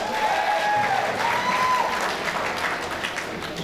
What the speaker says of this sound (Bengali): নিহাল, ইশরাত এবং ফাতেমার জন্য আবারও হাততালি যাচ্ছে